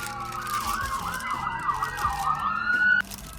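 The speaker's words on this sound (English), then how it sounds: "Sorry, I had to pause it a little bit because of the ambulance passing by." An ambulance siren wails in a steady warbling up-and-down pattern as the vehicle passes, loud and close throughout before cutting off abruptly near the end, heard from inside a parked 2004 lifted Chevrolet Z71 Avalanche.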